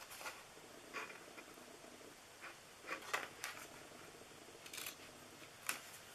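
Scissors cut paper for a gift box in a series of quiet, close snips, several brief crisp cuts spaced irregularly against a faint room background.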